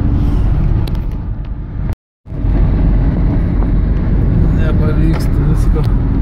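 A car drives along a Dubai street with a loud, steady road rumble and wind buffeting the microphone. The sound cuts out briefly once, and voices are mixed into the traffic noise.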